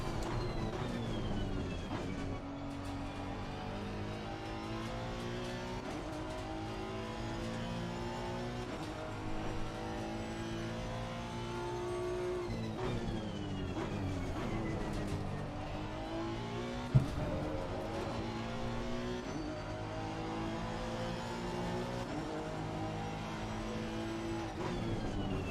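Honda NSX race car engine lapping Bathurst in the racing sim Assetto Corsa Competizione: a loud, continuous engine note rising and falling through gear changes and revs, with no talk over it.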